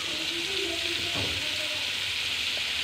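Prawns fry in a pan for a rustic prawn fry, giving a continuous, even hiss of sizzling oil at close range.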